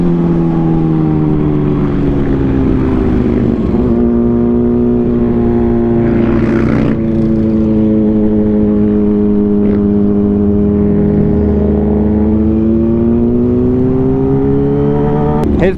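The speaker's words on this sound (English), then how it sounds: "His bike is super loud" A loud motorcycle engine, likely a Harley, revs and roars steadily up close throughout, with pitch rising and falling as it accelerates on the road.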